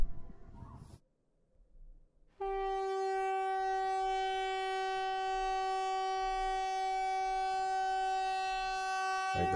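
A loud, steady harmonic siren tone starts after a brief pause and holds unbroken for several seconds, droning like a foghorn-style alert.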